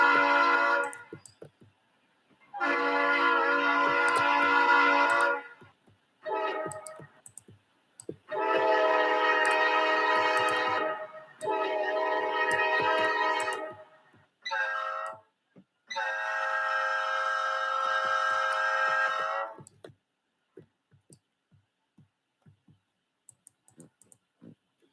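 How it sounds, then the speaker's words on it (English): Conrail train horn sounding in a series of long, loud blasts with short gaps, a three-toned chord, then a faint clicking of passing cars as the horn stops. "Nice Conrail horn."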